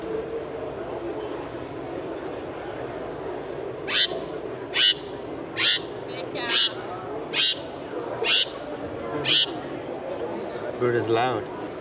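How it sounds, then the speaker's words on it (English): A loud bird calls at an indoor expo, giving a series of about eight sharp, evenly spaced cries over a background of crowd chatter. "Bird is loud."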